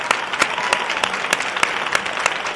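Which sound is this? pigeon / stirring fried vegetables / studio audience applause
studio audience applause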